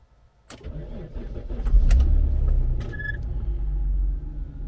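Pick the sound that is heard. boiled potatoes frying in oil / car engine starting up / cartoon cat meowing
car engine starting up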